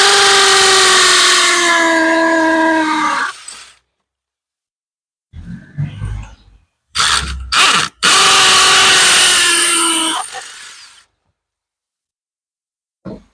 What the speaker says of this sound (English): We can then see where the holes in the bracket are, so we can attack it with the drill.